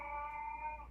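A cranky pet cat yowls in the background, one drawn-out, strained wail about a second long, clear but somewhat distant.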